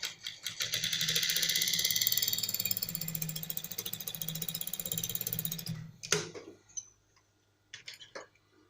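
A sewing machine stitches down a trouser pocket in a rapid, steady mechanical run for about six seconds, then stops, followed by a few short clicks and bursts of handling.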